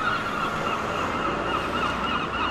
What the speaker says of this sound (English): Can you hear a seagull?